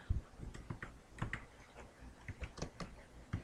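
Soft keyboard taps in an uneven, steady run while a plain-text message is typed for a QR code, close and quiet with no talking.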